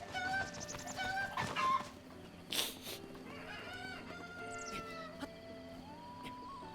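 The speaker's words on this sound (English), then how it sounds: "Can you still abuse chickens in this one and get killed by cuckoos?" Chickens in the video game Zelda: Breath of the Wild cluck and squawk in several quick, fairly faint bursts, with game music and effects playing softly underneath.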